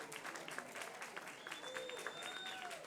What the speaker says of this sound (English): let's give a warm round of applause to the HSPVA Jazz Ensemble